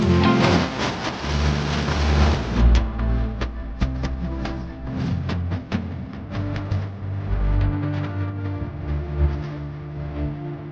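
Heavy, continuous roar of Kudlu Theertha waterfall near Udupi pouring down with force, a loud broadband wash that fills the whole stretch close by.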